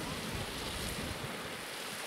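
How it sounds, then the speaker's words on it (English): Hot spring water at Mammoth Springs in Yellowstone rushing out and pouring into a river, a steady broadband wash of flowing water with no breaks, heard alone. "Water rushing out, flowing into the river."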